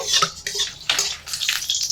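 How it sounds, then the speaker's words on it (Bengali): Oil is pushed around a kadai with a spatula, producing quick, loud scraping and clinking strokes in a rapid uneven rhythm, close by, with no voices. "তেলটা একটু নেড়ে চেড়ে দিচ্ছি কড়াইতে"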